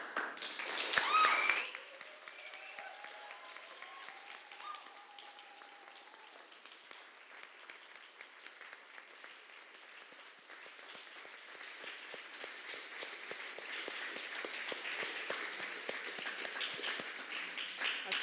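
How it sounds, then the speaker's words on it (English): A long round of applause from a seated audience at a community arts talk, with steady, fairly distant clapping that goes on for the whole stretch and swells slightly toward the end. A brief louder burst comes at the start. "feel like that was a suitably long round of applause for what you just said"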